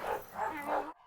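Cane Corso puppies bark three times in quick succession, each a loud, close, rounded yap, before the sound cuts off abruptly to silence.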